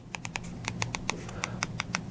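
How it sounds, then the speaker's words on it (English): Buttons on the D-pad of an old DIRECTV NOW remote click loudly up close, about a dozen sharp, hard taps in an irregular quick sequence over faint room hum. "That's the sound of the remote."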